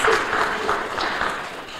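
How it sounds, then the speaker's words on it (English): An audience at a talk on Massachusetts energy policy breaks into a brief round of applause, with a short, even patter of clapping heard without speech. "So let's give a round of applause."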